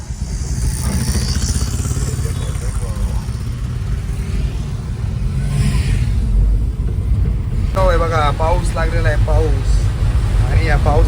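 Electric tempo cargo vehicle driving along a road, a steady loud rumble of wheels and body rattle throughout, with a voice briefly heard toward the end.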